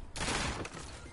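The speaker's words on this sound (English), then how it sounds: "I'm already getting shot at." A short burst of gunfire crackles in a Fortnite match, a rapid fusillade of shots heard briefly and at moderate volume with no talk over it.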